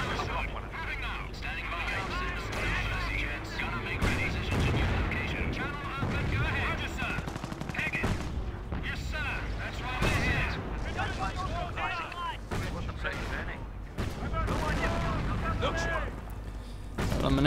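Dense gunfire and heavy tank-gun blasts from a Company of Heroes battle near Bourguébus, Caen, crackling and booming continuously and loudly, with game voices speaking amid the combat.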